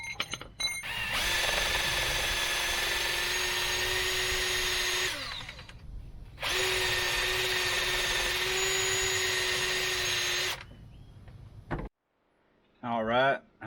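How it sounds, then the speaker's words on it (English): Cordless drill spinning a wire brush to clean a front control arm bushing mount on a 1997 Jeep Wrangler, two loud sustained whirring runs of about four seconds each separated by a short pause, followed by a brief scraping burst at the end. "I took a brush on my drill, cleaned it up"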